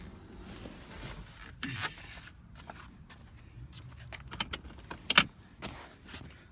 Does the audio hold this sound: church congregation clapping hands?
no